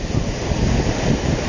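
Ocean waves break unevenly near the shore at a poor surfing spot, giving a steady broadband wash of surf mixed with wind buffeting, with no distinct individual crashes.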